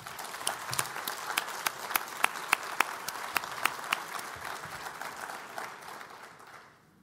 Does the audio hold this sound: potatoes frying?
no